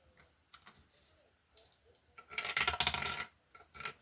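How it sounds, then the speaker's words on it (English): A pair of dice rattles and tumbles across a hard surface in a burst of close, bright clicking about a second long, after quieter scattered taps. "let's roll the dice again"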